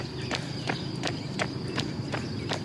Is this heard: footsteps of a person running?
yes